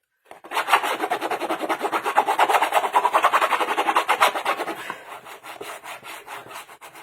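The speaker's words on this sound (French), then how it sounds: "Il est texturé ce papier, il fait un bruit." Rapid back-and-forth rubbing on textured scrapbooking paper, a scratchy rasping rhythm that runs steadily for several seconds, then continues more softly toward the end.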